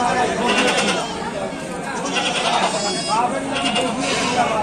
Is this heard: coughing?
no